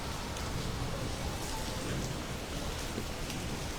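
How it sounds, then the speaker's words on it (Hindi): Heavy rain mixed with hailstones pours steadily during a May storm in Kashmir, a dense unbroken hiss with no pauses and no talk. "बारिश के साथ में अभी भी लगातार जो है ओले बरस रहे हैं।"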